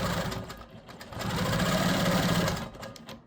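A QMP 20 quilting machine stitches curves across bag panels, its needle chattering in a fast, even rhythm that swells louder through the middle and eases off at the end.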